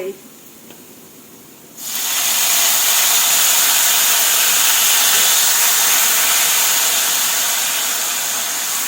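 Soy sauce poured into a hot pan with ginger bursts into a loud, steady sizzle after a quiet start, hissing continuously and close up, fading only slightly as it cooks.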